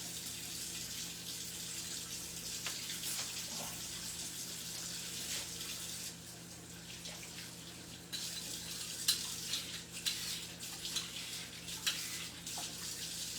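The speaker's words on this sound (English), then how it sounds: "I'm just going to rinse this again at the same time." A white carrot is rinsed under a running kitchen tap, giving a steady close hiss of flowing water with splashes and small spatters as the stream hits it, shifting in texture partway through.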